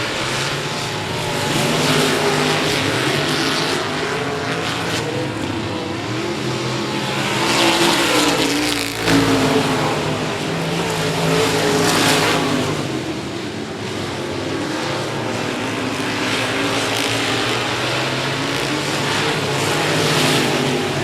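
Race cars running door-to-door on a speedway, a continuous loud roar of engines that swells and fades as the cars pass, heard at a distance without voices.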